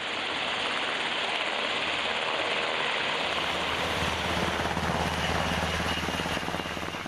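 A Black Hawk helicopter flies over Afghanistan, its rotors and engine making a continuous loud, broadband roar that thickens with a low pulsing thump toward the end.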